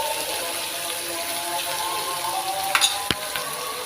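Ginger garlic paste sizzles in a pan under a steady hiss, with a few sharp scraping clicks from stirring near the end.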